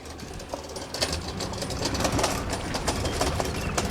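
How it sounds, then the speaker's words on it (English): A fishing boat engine runs steadily, a dense continuous mechanical rattle and drone at moderate level with no pauses, heard close with no talk over it. "No, it's me with the engine."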